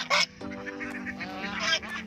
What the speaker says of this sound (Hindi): ये सारे बतख भौंकने लग गए।